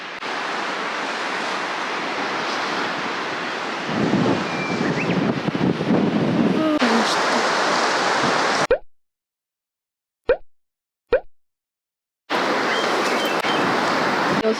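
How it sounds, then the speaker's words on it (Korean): Ocean waves surge and crash along the rocky coast of Yokjido island, a steady roar heavily buffeted by wind on the microphone, with the sound dropping out briefly before returning. "파도가 장난 아니야. 물살 봐."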